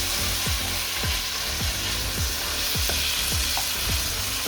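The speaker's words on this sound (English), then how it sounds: "I'm gonna put the peppers in." Sliced peppers hit a hot pan of caramelized onion and chorizo for a Spanish chilli con carne pie, giving a loud, steady sizzle with a run of regular scraping stir strokes over it; no one speaks.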